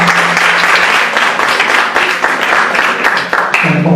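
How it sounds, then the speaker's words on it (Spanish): An audience applauds a social work student's request to honour an award-winning organisation's leader at a talk on social management and ethnic perspectives, with dense steady clapping throughout and a faint voice near the end. "quiero pedirles un aplauso"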